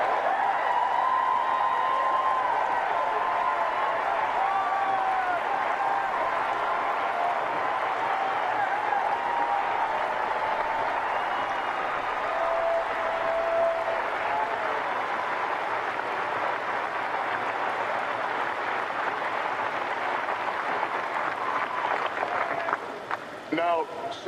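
A crowd at a political speech breaks into sustained applause, a dense continuous clapping roar that holds steady for the full length before thinning slightly at the end.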